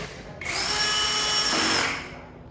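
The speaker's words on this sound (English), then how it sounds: "Fix the screws onto the battery from the bottom." A power driver runs screws into a JK200 battery cover in one sustained whir of roughly a second and a half, rising sharply and tapering off, loud and close with no talk.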